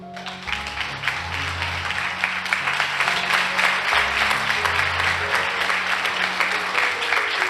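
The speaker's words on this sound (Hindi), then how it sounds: "तालियां बजाइए।" A congregation applauding during a sermon on fasting and prayer, a sustained wash of many hands clapping that swells and holds at full volume.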